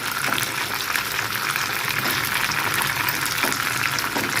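Masala-coated pomfret fish frying in a pan over medium heat, giving a dense, even sizzle and bubbling crackle that holds steady and close throughout.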